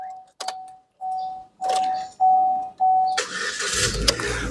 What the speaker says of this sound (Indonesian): Oke, kita coba start mobil ya.